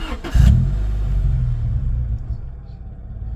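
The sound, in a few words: Honda Civic EH3 hatchback engine cranking and running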